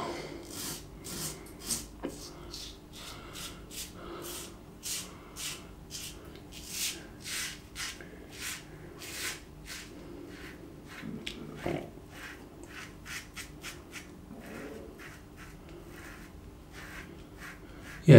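An Aylsworth Apex safety razor with a wide blade gap scrapes across lathered stubble in close, steady strokes, a soft rhythmic rasp repeating throughout with no voices.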